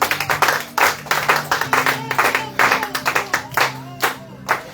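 A church congregation at a water-baptism preparation gathering claps and applauds for Jesus, a lively crowd of hands beating in uneven bursts, with a steady hum of voices and instruments underneath.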